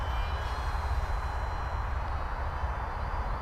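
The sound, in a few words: RC model plane Dart flying at full throttle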